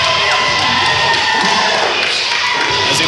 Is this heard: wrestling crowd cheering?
yes